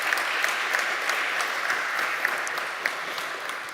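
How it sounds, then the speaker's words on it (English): A full auditorium at a European internet governance conference breaks into sustained applause, dense and even clapping with a few sharper individual claps standing out, heard from within the room. "Give yourself and speakers in the first turn, the huge applause"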